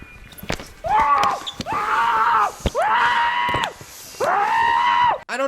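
Muffled screaming from a movie scene comes in four long, loud wailing bursts separated by short gaps, with a few sharp thuds between them.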